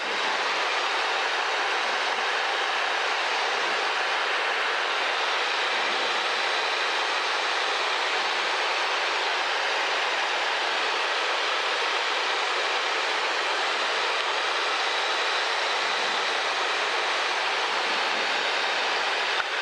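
Steady, loud broadband drone of a light training airplane's engine and airflow in flight as the throttle is eased back, filling the cabin evenly throughout with no talk over it.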